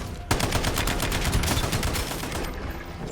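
Incoming gunfire aimed at the player in Call of Duty Black Ops 7: after a brief quiet moment, a dense, rapid rattle of automatic shots erupts and continues steadily, loud and close.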